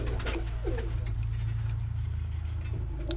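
A Birmingham Roller pigeon coos close by in soft, low, repeated throaty calls against a steady background hum.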